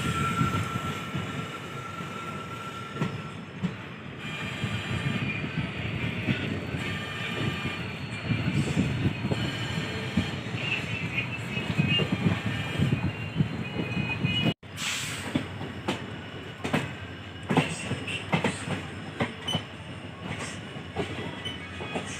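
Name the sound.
express train UBL-SC running, general class coach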